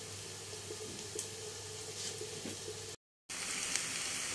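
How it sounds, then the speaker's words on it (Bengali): Chopped onions frying in a pan, a steady close sizzle with faint crackles, briefly cut out before resuming just as strong. "পেঁয়াজটা ফ্রাই হতে থাক।"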